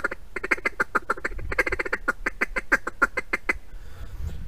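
A handheld wildfowling duck call is blown in a rapid run of ticking, clipped quacks, about twenty evenly paced calls close to the mic, fading out at the end.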